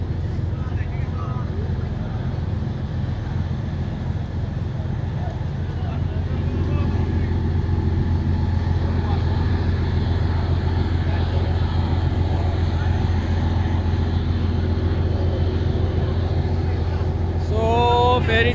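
A river ferry carrying motorbikes drones with a steady low engine rumble throughout, close and continuous, while a person talks over it and a brief clatter sounds near the end.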